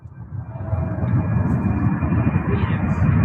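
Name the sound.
UPS Boeing 767 jet taking off from runway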